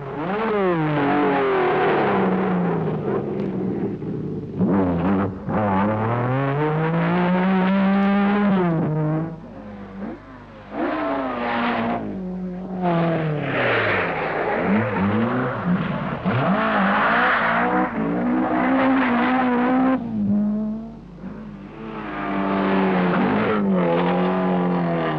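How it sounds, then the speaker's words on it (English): A Lancia Stratos rally car charges through a 1975 Circuit of Ireland stage in freezing conditions, its engine loud and close, revving up and down repeatedly through gear changes for the whole stretch. "Cahill Curley charged through in the revolutionary Lancia Stratus."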